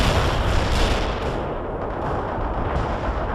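Heavy artillery barrage in the World in Conflict video game, a dense, continuous roar of overlapping blasts and rumbling impacts filling the whole stretch, loud and sustained.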